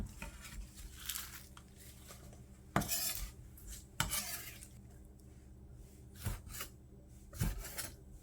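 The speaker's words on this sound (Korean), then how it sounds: "손질한 미나리는 먹기 좋은 기로 썰어서 준비해주고" A knife chops squid against a wooden cutting board in a few sharp, scattered cuts, with soft scraping and rubbing between them.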